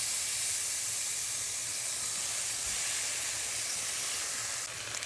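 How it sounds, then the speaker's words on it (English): Beef short ribs sear in a hot pan with a loud, continuous sizzling hiss that stays steady and close for the whole stretch. "I'm going to get a good sear"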